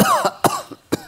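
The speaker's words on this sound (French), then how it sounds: "J'allumais une cigarette et fus pris d'une quinte de toux." A coughing fit right after lighting a cigarette: three sharp, close coughs spaced about half a second apart, the first followed by a rasping, wheezy breath.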